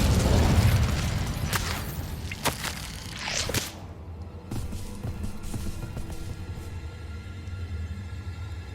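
Fire spell cast with Incendio in Hogwarts Legacy, a fantasy video game: a loud whooshing burst opens, followed by sharp booming pops and crackles, and then a quieter lingering rumble of ambience.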